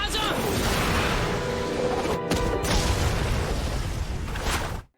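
In an anime, a thrown carrot explodes and kills a dragon. The blast is a loud, sustained roaring rumble that runs for several seconds before cutting off abruptly.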